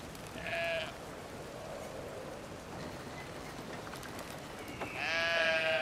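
Sheep in the video game Brothers bleat twice, once near the start and again at the end, with clear wavering cries over a soft, steady hiss like rain.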